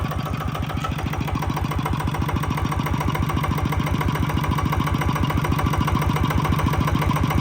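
A Golden Bow 15.5 hp small engine runs steadily at idle on test, its rapid, even chugging loud and close throughout with no talk over it.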